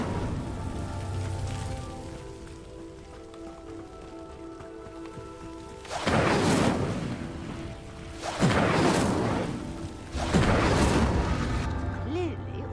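Three fiery whooshing bursts of the Incendio spell igniting pyres in Hogwarts Legacy, each loud and broad, spaced a couple of seconds apart over a steady ambient background.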